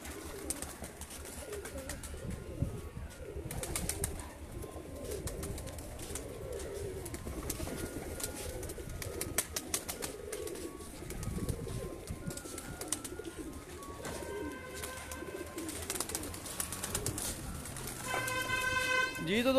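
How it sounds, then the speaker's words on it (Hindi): Pigeons coo softly and steadily on a rooftop loft, their low calls running throughout under nearby talk, with a brief siren-like tone rising near the end. "मैं एक दफ़ा फिर आपको सारे कबूतर दिखाता जाता हूँ।"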